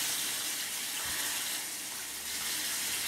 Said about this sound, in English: I'm just gonna rinse this off with warm water again.